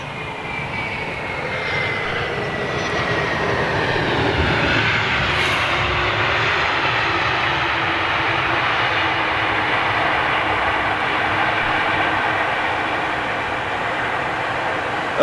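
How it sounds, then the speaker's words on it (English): A Japanese government Boeing 747 arriving at London Heathrow in the early morning, its jet engines roaring steadily and loudly with a broad continuous rumble and a slowly shifting whine, with no talk. "We're expecting the government, first government 747."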